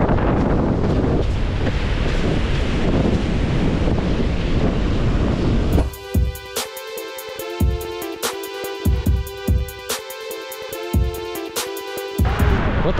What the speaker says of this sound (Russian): Но волны, волны все ломаются из-за вот этих плит, которые в воде лежат.